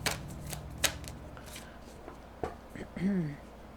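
A single tarot card drawn and slid from a shuffled deck during a reading, giving quiet papery flicks and a soft brush, with a voice speaking around it.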